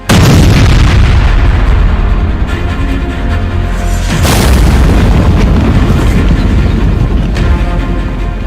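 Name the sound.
explosion blast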